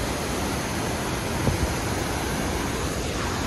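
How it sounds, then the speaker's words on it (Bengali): A waterfall in Neijiang, Sichuan roars nearby as a loud, continuous wash of rushing water with no voices. "আপনারা একটু দেখুন পানির যে শব্দটা কত কত বেশি"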